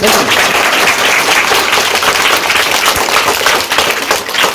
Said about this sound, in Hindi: तो ये अपना पे बहुत बड़ी बात है, तो ताली बजना चाहिए।